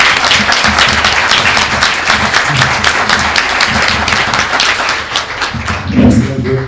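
Audience applause at a panel discussion, dense, steady clapping from a sizable crowd filling the whole stretch at close, even loudness, fading slightly at the end.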